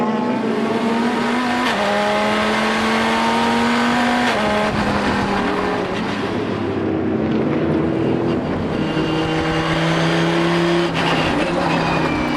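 Mosler and Ferrari supercars race in a Supercar Challenge event, their engines screaming loud and close with rising and falling pitch through gear shifts, blended with wind rush.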